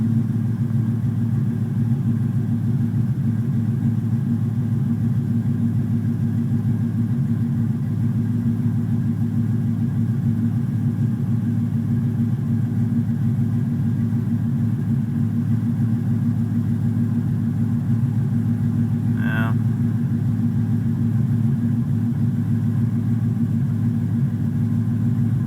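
A Ford Mustang 5.0 with an intermittent stall-at-idle fault idles steadily and loudly up close, a continuous low engine drone with a slight uneven pulse throughout and one brief click partway through.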